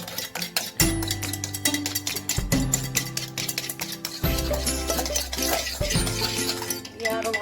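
Cake batter with a little oil being beaten in a bowl by hand, a steady run of quick clinking stirring strokes against the bowl, close by, under loud background music.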